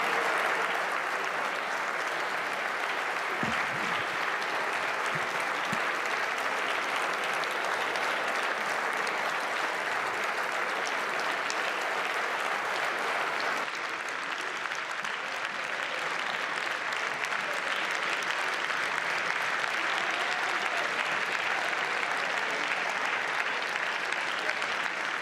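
Sustained applause fills the French National Assembly chamber, a dense, continuous roar of many hands clapping that holds steady for the whole stretch with only brief voices beneath it.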